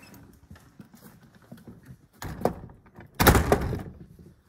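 At an old mill, a door is pushed shut, with soft shuffling first, then a louder thump and a heavy rattling bang near the end.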